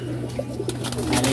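Racing pigeons from a racing loft coo softly and steadily in the background, with a low continuous hum throughout and occasional brief chirps near the end.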